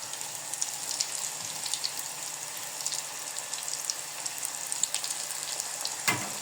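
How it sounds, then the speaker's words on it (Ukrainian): Thin rosette cookie batter frying in hot oil over a low flame, giving a steady, close, moderately loud hiss and crackle that runs evenly throughout with no voices. "щоб наші розочки повністю, скажімо так, занурилися в олію і гарно смажилися"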